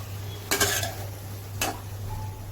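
A utensil scrapes and clinks against a pan while onions with salt are stirred, two short bright strokes over a constant low hum, fairly quiet and with no talk.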